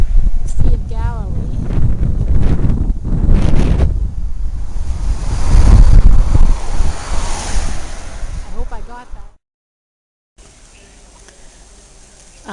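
Waves on the Sea of Galilee near Tiberias wash and surge loudly under heavy wind buffeting the microphone, with a voice speaking over parts of it before the sound cuts out, then a quieter stretch.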